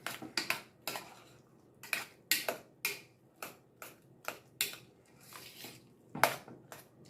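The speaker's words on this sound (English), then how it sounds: "I just want to mash them up kind of good because we like them lumpy" A masher works garden potatoes with sour cream in a pot, producing a steady series of sharp clinks and thuds against the metal, about two per second, close and distinct, with no talking.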